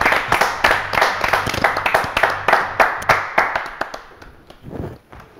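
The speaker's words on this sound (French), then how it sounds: "on l'applaudit" A studio audience claps for Sébastien, a dense run of close, crisp hand claps that thins out and fades toward the end.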